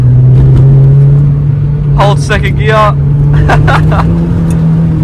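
A misfiring Mazda 323 engine drones steadily in second gear at close range, its rough, uneven note running under a man's brief spoken instructions.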